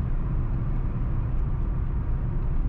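A Ford Ka 1.5 Dragon with 136 hp drives along under acceleration, its engine and road noise forming a loud, dense, steady roar heard from inside the cabin without speech.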